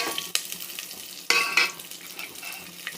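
Pepper, cumin, curry leaves, chilli and chopped ginger sautéing in a pan for ven pongal: a close crackling sizzle with a few clinks and scrapes of a spoon as they are stirred, and no voices.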